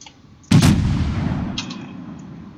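Naval guns of the heavy cruiser Atago fire in World of Warships: a sudden, loud, sharp salvo blast that rolls into a long rumbling decay, with a fainter second report about a second later.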